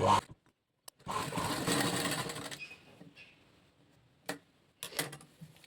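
A sewing machine stitches a blouse lining in one loud, steady run of rapid stitching lasting about a second and a half, then fades to a few quieter clicks and short bursts.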